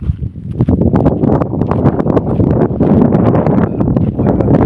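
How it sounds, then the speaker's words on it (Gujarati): Strong wind roars and buffets the microphone continuously at a stone quarry, with gusty crackling bursts throughout and no talking. "જેટલો વાયરો આવે છે"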